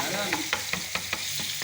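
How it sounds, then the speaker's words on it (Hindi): Garlic ginger paste sizzling and frying in hot oil, with several sharp stirring scrapes at an irregular pace over the steady crackle. "ऑयल गर्म होने के बाद हम इसमें डाल देंगे लहसुन अदरक का पेस्ट 1 चम्मच"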